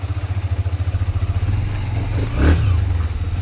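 A motorcycle on a road ride runs close and loud, its engine pulsing in a steady throbbing rhythm that smooths into a sustained drone with a brief surge of revving near the end.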